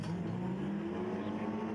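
Stock cars racing at an autograss meeting in the men's qualifying round, a continuous loud engine drone from several cars roaring around the dirt track at mid distance, steady without pause.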